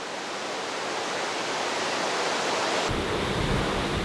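A waterfall at Gan Eden, a green oasis near the Dead Sea in Israel, pours down in a steady, dense rush of water that grows fuller and heavier partway through, with no voices.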